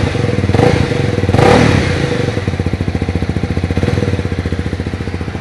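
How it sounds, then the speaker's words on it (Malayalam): A Honda CB300R motorcycle engine fires up close by and gets a quick rev, then settles into a loud, steady, throbbing exhaust beat at idle. "നമുക്കൊന്ന് സ്റ്റാർട്ട് ചെയ്ത് നോക്കാം. ആണോ, എക്സോസ്റ്റ് നോട്ട് നല്ല രസകരമായിട്ട് കൊടുത്തിട്ടുണ്ട്."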